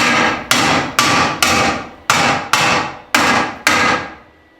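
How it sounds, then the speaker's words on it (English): A hammer strikes a metal weld to test whether it holds, eight loud, sharp, ringing blows at an even, unhurried pace, each decaying before the next, with no talk. "I'm gonna give it a bang with the hammer here"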